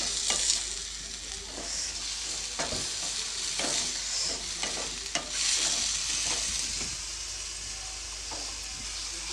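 Pineapple pieces frying in oil for pineapple gojju, a continuous sizzling hiss with repeated spatula stirs and scrapes against the pan, steady and close with no voices.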